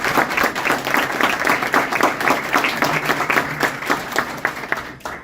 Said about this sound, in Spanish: Así que un aplauso para cada uno de ustedes.